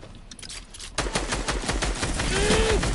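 Sustained automatic gunfire bursts out after a second of quieter ambience in a shooter video game, a rapid, even rattle of close, loud shots running to the end.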